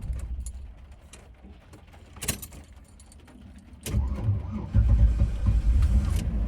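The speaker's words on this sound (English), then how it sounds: "So I'm about to turn off my van and see if it starts again." A van engine is restarted after being switched off. Keys jangle and click first, then the engine cranks and catches into a loud, close, steady idle.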